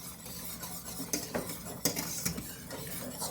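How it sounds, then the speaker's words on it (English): A whisk stirring basil into pasta sauce makes a series of quiet scraping and clinking strokes against the pot, with faint sizzling underneath and no voices. "Give that a good whisk."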